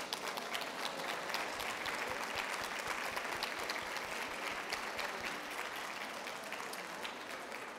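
A conference audience applauds standing bilingual parent advisory committee members in a long, even wash of many hands clapping, fairly distant and unbroken.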